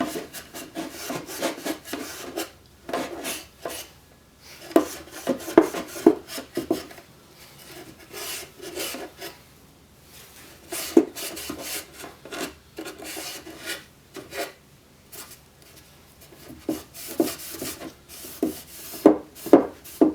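A rag rubs wood stain into a Zenith table radio cabinet, working down inside the grill cloth opening; repeated rasping wipes come in uneven bursts, close and fairly loud, with short pauses between strokes.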